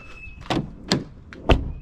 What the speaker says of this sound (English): Didn't shut that door earlier.